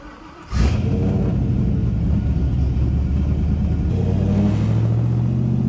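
A loud Trans Am engine roars steadily after starting up, with a deep rumbling, raspy break-in exhaust tone that shifts slightly in pitch near the end.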